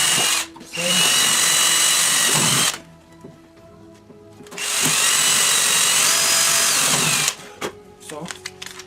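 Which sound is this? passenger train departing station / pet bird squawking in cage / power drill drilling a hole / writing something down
power drill drilling a hole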